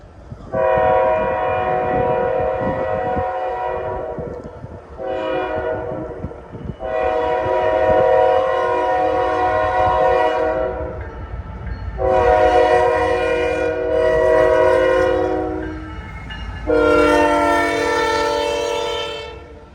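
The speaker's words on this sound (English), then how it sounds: "A massive consist of superliners and auto racks zoom by." A long Auto Train of Superliner coaches and auto racks rushes past, its horn blaring in four long blasts with a short toot between, over steady rumbling wheel noise, loud and near.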